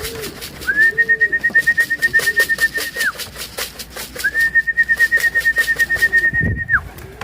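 Racing pigeons coo and call close by at their loft, with two long drawn-out whistle tones over the cooing and a brief rustle near the end.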